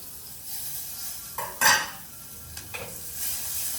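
Garlic and curry leaves sizzling in hot tempering oil for mango dal: a steady crackling hiss with a couple of sharp spatters and clinks of a utensil against the pan, close and moderate.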